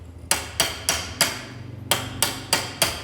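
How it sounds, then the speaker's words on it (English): A hammer chips slag off pieces of cut metal being made into a chain sword, giving about nine sharp, ringing strikes in a fairly even rhythm with one short pause midway, close and clear. "Once these were cut out, we had to chip off all the slag"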